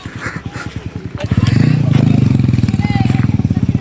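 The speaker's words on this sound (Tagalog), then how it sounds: "May pakarera din sa motor oh." Motorcycles at a local race rev loudly nearby, a throbbing engine note rising and holding steady with rapid pulsing firing beats, while people talk over it.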